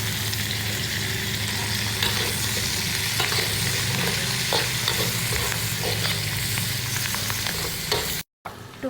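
Curry leaves sizzle loudly in a frying pan for Malaysian-style fish sambal, with a dense, steady crackle and faint stirring scrapes close by, broken by a brief silence near the end.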